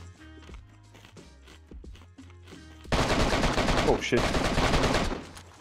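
Dense automatic gunfire from an M4 near the Northwest Airfield in DayZ erupts after quieter sporadic clatter, loud, rapid and sustained for about three seconds, with a brief spoken exclamation.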